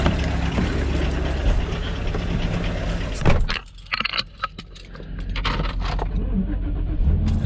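An older snow plow machine's engine cranking and catching on a cold day, a rough rumbling start that dips briefly before settling into a steady, close idle.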